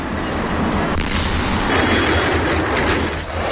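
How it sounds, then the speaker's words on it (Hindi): Explosions at a burning fireworks factory: deep rumbling blasts roll one after another over a constant roar, with a sharp boom near the one-second mark; dense, loud and sustained throughout. "एक एक करके धमाके"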